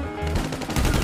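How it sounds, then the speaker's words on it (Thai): Rapid police gunfire aimed at the player in GTA Online, a fast close-range burst of shots rattling loudly through the whole brief moment. "โดนตำรวจยิง"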